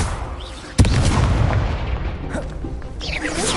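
A Confringo spell explodes in a wizarding video game, a single sharp boom followed by a rolling, noisy crackle of battle.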